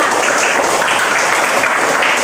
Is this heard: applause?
yes